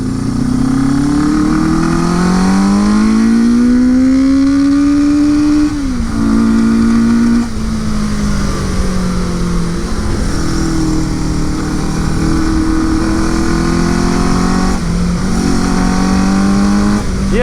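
A Suzuki GS850 scrambler motorcycle engine runs with the choke on, a loud, steady close-up drone whose pitch swells, dips and rises again as the revs shift, with no talk over it.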